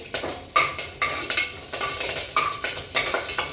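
A metal spoon clinks and scrapes rhythmically against a pan while cinnamon, bay leaf and curry leaves are sautéed in hot oil. It sounds like quick, close stirring with repeated sharp taps and a faint sizzle underneath.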